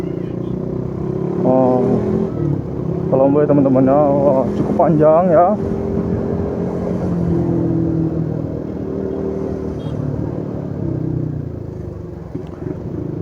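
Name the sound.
busy traffic of cars travelling home for Eid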